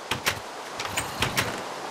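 Door opening in Minecraft during a MineZ zombie-survival session, heard as a few quick, sharp clunks and creaks spaced irregularly over a low background hum, with no talking.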